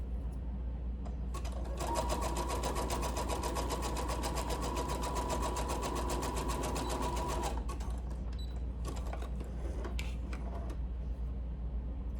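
Sewing machine stitching elastic onto a garment bodice, a steady fast needle chatter running for several seconds, then stopping, followed by a few faint handling clicks, close by with no talk.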